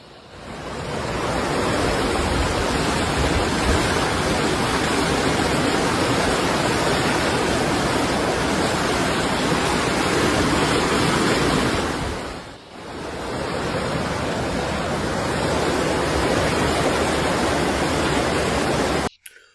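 Floodwater on the Stillaguamish River near South Fork in Washington State rushes in a loud, steady roar that fills the whole clip, briefly dipping once before surging again.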